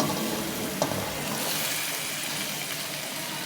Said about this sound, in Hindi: मसाला मेरा अच्छे से भुन चुका हुआ है और ऑयल के बबल्स आपको नज़र आ रहे होंगे।